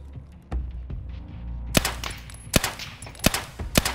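Pistol shots crack in Escape from Tarkov: a single shot, then a quick irregular string of sharp, loud reports close by.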